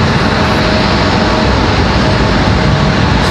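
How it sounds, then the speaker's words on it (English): A JetBlue Airbus A321-200 departing Raleigh-Durham International toward Boston, its engines a loud, close, steady jet roar filling the whole moment without pause. "JetBlue 484 headed off to Boston, that A321-200."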